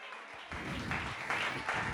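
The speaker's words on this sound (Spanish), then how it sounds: "Dele un aplauso al Señor." A church congregation breaks into brief, dense applause, many hands clapping together in a reverberant hall, rising quickly and holding steady.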